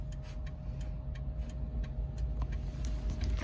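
Steady low road rumble and engine drone inside a car driving home with a new Standard Poodle puppy, constant and moderately loud with faint ticking on top and no talking.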